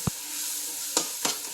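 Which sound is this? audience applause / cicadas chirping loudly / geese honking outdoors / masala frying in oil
masala frying in oil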